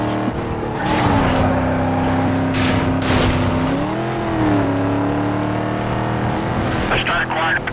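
A blue GTO muscle car racing in Need For Speed Most Wanted: a loud, close engine roar that rises, dips and climbs again through gear changes, with a tire squeal and a police radio voice talking over it.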